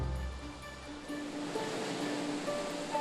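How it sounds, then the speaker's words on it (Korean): Rough night-time ocean surf surging against a sea cliff on Christmas Island, a continuous broad wash of breaking waves with steady rumble and no voices. "하지만 파도는 어미 개를 통째로 휩쓸어 가기도 합니다."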